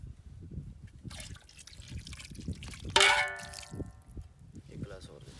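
Water poured from a glass into a cooking pot of chicken dum pukht gives a short splashing trickle with a metallic clang, faint and brief, amid low background noise and a person talking.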